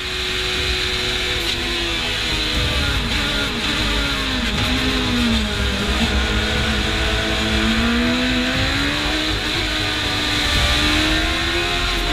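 Pikes Peak hillclimb race car powered by a 1.3 liter turbocharged motorcycle engine, screaming at high revs and rising and falling through gear changes, loud and close for the whole stretch with no talk.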